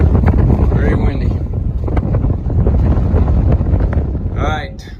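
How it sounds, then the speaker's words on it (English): Strong wind on a hiking trail buffets the microphone in loud, continuous gusts that rumble and roar throughout, with someone speaking briefly partway through. "Very windy."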